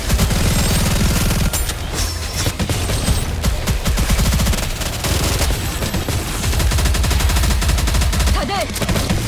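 Volley gunfire during a boss battle in the mobile shooter game NIKKE: dense, sustained bursts of rapid shots fill the whole stretch, loud and continuous over a busy game soundtrack.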